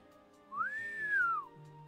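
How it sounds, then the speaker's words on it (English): A single clear whistled note rises, holds and falls over about a second, close and alone against a quiet background. "Hold on, I can do a better whistle than that."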